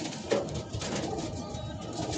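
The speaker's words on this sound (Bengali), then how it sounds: "অনেক সুন্দর কবুতর" Pigeons coo softly and steadily inside a pigeon loft, a low continuous murmur of several birds with no talking.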